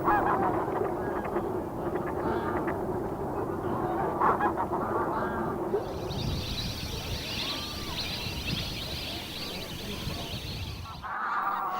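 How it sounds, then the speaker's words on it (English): Pintails, shovelers, pochards and teals call across a marsh in a dense, continuous chorus of overlapping quacks and chatter that stays steady throughout, with no talking. "Colorful pintails, shovelers, pochards, and teals can be seen in groups foraging for food in the marshes."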